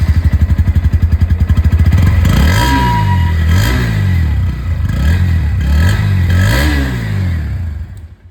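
Bajaj Pulsar NS160 motorcycle with an underbelly exhaust, idling in a steady loud thrum, then revved repeatedly in rising and falling surges before cutting off near the end.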